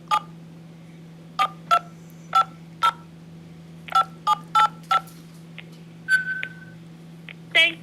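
Telephone keypad tones entering a PIN on a call to an IRS collections line, about a dozen short, crisp beeps in uneven groups over a low steady hum.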